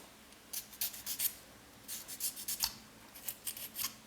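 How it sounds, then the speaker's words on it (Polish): Fine sanding and polishing of modelling putty on small model parts gives soft, close, raspy scrubbing strokes. They come in three short bursts of quick back-and-forth rubbing, faint and dry, with quiet gaps between them. "poleruje i szlifuje"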